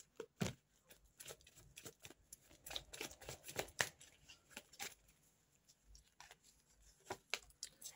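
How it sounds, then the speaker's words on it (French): Tarot cards being drawn and handled on a table: soft, quiet slides, taps and flicks in an irregular patter, close and faint, with no voice. "on prend une dernière carte pour la synthèse"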